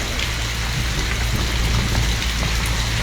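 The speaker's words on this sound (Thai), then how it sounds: "ฝนตกต้องตวงน้ำไว้" Heavy rain pours steadily outdoors, a dense, loud, continuous hiss with a few scattered drip impacts and no talking.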